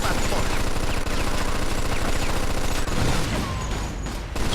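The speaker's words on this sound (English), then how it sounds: "Stop shooting that fucking thing! I'm going deaf over here!" Sustained rapid gunfire in the Mafia 2 video game, dense automatic bursts filling the whole stretch, loud and close, with a brief lull near the end.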